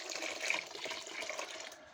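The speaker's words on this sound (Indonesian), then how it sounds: "kita tambah lagi sedikit airnya ya." A small amount of water is poured into a fruit fly bait feed mix, giving a faint, steady trickle and splash lasting about two seconds with no talking.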